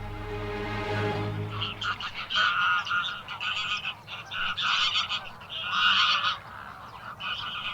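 A flock of flamingos gives a chorus of nasal, goose-like honks, many overlapping calls close and loud throughout, after a short tonal sound at the start.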